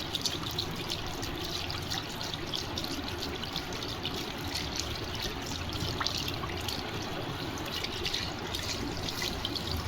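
Water poured while bathing a cat, a steady splashing trickle and patter that continues unbroken and fairly close, with no talk over it.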